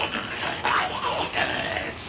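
A cartoon dog yelps and whimpers in short excited bursts, sounding close, mixed with a few other vocal noises.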